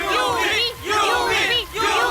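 A large crowd of fans stands in heavy rain, waiting for a glimpse of a film star, and lets out loud surging cheers and shouts in repeated waves.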